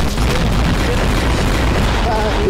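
Explosions in Garry's Mod, a dense, loud run of booming blasts and rumbling bursts packed close together, with a voice speaking over part of it.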